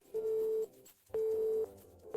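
After a phone call is hung up, the handset gives a steady electronic tone in repeated half-second pulses with short gaps between them, clear and close, with no talking.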